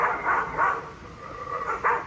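Motion-activated deer alarm in a backyard garden playing recorded dog barking: several short barks in an uneven rhythm, moderately loud and slightly distant, with no talking.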